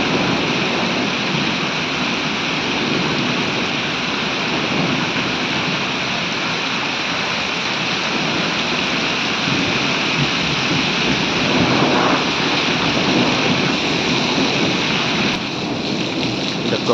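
Heavy rain with hail hammers farmland in a thick, continuous roar, rough wind buffeting against the microphone adding to the steady close noise, and no speech.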